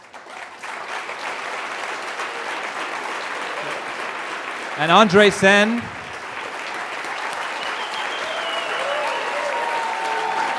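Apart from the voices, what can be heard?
audience applause thanking debaters after homeopathy debate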